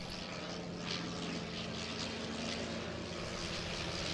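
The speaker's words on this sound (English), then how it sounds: "These planes provided a glimpse of aviation in the early days of the Russian Air Force." Early propeller aircraft flying at the Zhukovsky air show marking 100 years of the Russian Air Force, a steady droning engine hum heard from a distance throughout, with constant crowd-like background noise and no talk.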